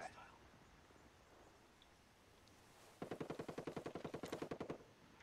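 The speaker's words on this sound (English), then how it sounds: "I'm taking enemy fire" Rapid automatic gunfire in the shooter game Ghost Recon Breakpoint, a loud sustained burst of evenly spaced shots that starts suddenly after a quiet stretch with faint whispered radio chatter.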